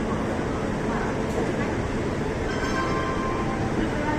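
Garib Rath express train running from Kanpur to New Delhi, a dense steady rumble of wheels and carriage noise, loud and close throughout.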